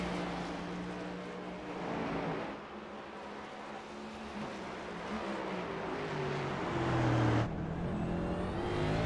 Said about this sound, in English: On board your race leader, Dan Hill, you can see the shift lights dropping all the way down into first, helping getting the car slowed down, rotated, then back up into second